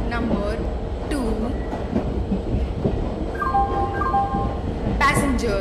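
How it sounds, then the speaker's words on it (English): Train in the Indian Train Simulator game pulling into a station platform on the Pune to Mumbai route, a steady rail rumble with wheel clatter and a brief high squeal near the end, under station announcement speech. "Superfast Express is arriving at platform number 2."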